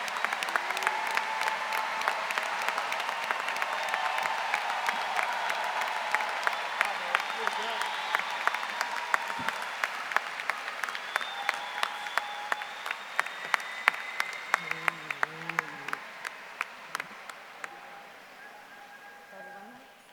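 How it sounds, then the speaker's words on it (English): A high school graduation audience gives the Class of 2024 a long round of applause, steady dense clapping that gradually thins out over about twenty seconds, with some voices mixed in. "Let's give them all a round of applause."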